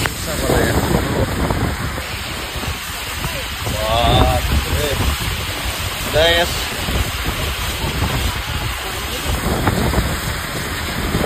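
Heavy rain pours in a dense, constant hiss in a rural area of Nepal as a nearby stream swells, with faint, brief voices breaking through now and then.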